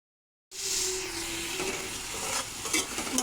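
Spice paste sizzles and fries in a pan while being stirred for a fish head and potato curry, starting abruptly after a short silence and continuing with steady close hiss and occasional scraping clinks.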